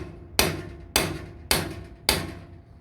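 Four evenly spaced, sharp metallic hammer blows drive a seal into a boat engine's bellhousing, each close strike ringing briefly before fading.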